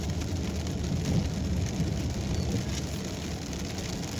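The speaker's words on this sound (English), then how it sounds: "The lower I get, the heavier the rain seems to be getting." Heavy rain drums steadily on a car driving in Sevierville, Tennessee, forming a constant dense hiss over a low road rumble with no talk.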